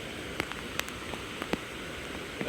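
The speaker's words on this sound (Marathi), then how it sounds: "पाऊस बऱ्यापैकी पडतो आहे आज इकडे" Steady soft hiss of rain falling in the Konkan region, with scattered brighter drips and taps landing close by.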